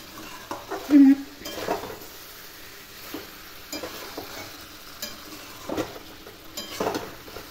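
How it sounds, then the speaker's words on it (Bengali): Chicken biryani masala with yogurt being stirred in a pan, producing soft scraping and light clinks of a utensil over a faint sizzle, in scattered strokes close by with no talk. "এই যে টক দই দিলাম, নাড়তে থাকি।"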